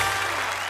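Audience applause greets a performer on a Hindi poetry show, heard as a brief, dense wash of clapping that lasts under a second.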